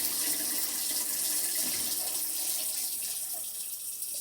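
Cold tap water running steadily while filling a pot for pressure canning raw chicken in mason jars: a loud, continuous hissing gush with no talking.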